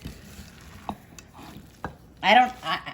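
Spoon stirring gluten-free chocolate chip cookie dough in a bowl, a few soft scraping taps and muffled thumps close by, ending in a brief louder scrape.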